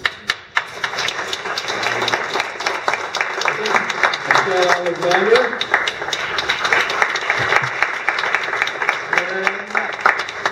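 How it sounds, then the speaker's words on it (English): Volunteers receive a standing ovation at a Black History Month celebration in Vancouver's City Council Chamber: dense, steady clapping fills the room from start to finish while a voice briefly calls out names over it. "you can freestyle it on the applause"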